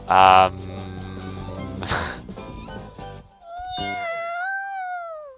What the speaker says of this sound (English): Okay, it's a cat.